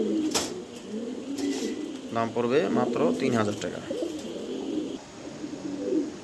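A pair of pigeons kept inside a vegetable crate coo softly in low, rolling calls, with someone talking over them for much of the stretch.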